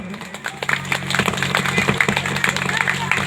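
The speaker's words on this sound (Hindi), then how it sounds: "इनके तालियों से थोड़ा स्वागत करें" Audience clapping to welcome guests at a sarna ceremony, a loose patter of hands that thickens into steady applause, heard under a voice speaking over it.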